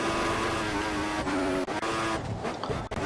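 Williams Formula 1 car in an F1 video game at the Malaysian Grand Prix, its engine a steady, loud high-pitched whine that holds throughout, with a brief dip near the middle and again near the end.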